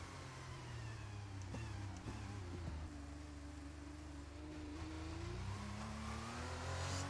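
A race car in the F1 23 video game, racing a wet Formula 2 round, accelerates out of the pit lane as the limiter is released. Its engine note climbs steadily and stays loud and continuous throughout, with no talking.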